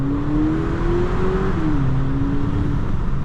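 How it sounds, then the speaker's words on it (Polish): A 2024 VW Polo GTI with a 2.0 TSI engine drones from inside the cabin, a steady engine tone that climbs gradually under acceleration, dips briefly as if shifting gear, then holds over constant road rumble. "Dźwięk silnika oczywiście jest słyszalny"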